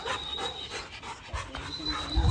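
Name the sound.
dog panting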